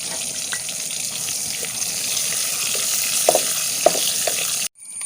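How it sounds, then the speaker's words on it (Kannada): Mustard seeds crackle and pop in hot oil for a taro-leaf chutney tempering, a steady close sizzle with scattered sharp pops, cut off abruptly near the end. "ಇವಾಗ ಸಾಸಿವೆ ಎಲ್ಲ ಸಿಡಿತಾ ಉಂಟು"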